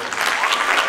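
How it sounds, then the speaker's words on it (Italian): Short burst of audience applause at a hip hop dance competition, dense steady clapping from a crowd throughout, fairly loud and close. "Un altro forte applauso."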